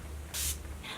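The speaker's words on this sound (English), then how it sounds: "I'm just going to spray this all over my face." Urban Decay All Nighter setting spray misted across a face in one short, hissing burst of about a fifth of a second, close and fairly loud, with a quiet room before and after.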